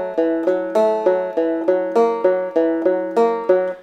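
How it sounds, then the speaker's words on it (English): Open, unmuted banjo picking a steady run of bright, ringing notes with sharp attacks and sustained decay, loud and close with no voices. "so without palm muting, the banjo sounds like this."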